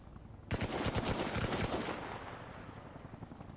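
Gunfire in the military video game Arma Reforger, with a helicopter nearby: a sudden, rapid burst of automatic shots crackles for about a second and a half, then fades into a lingering rumbling wash.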